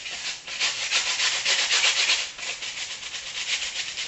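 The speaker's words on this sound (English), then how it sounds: "I'm going to use this 1-inch brush as well, just for speed" A 1-inch brush paints a base coat on a model scenery piece, giving a steady, close, dry rubbing and scrubbing sound with repeated strokes for about four seconds and no talking.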